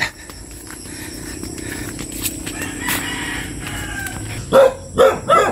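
Several loud barks burst out near the end, following a stretch of quiet outdoor background noise with a rooster faintly audible.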